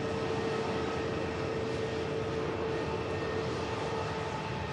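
A KLM airliner taxis past at Manchester Airport, its engines giving a steady, even whine and broad rumble that holds at constant loudness throughout, with no voices over it.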